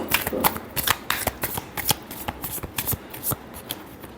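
Tarot cards riffle and slap in a quick, continuous shuffle, crisp and close, with brief pauses between bursts.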